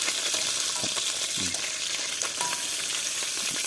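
Fish frying in oil in a home kitchen makes a dense, continuous sizzle with scattered crackles and pops, heard close up and without speech.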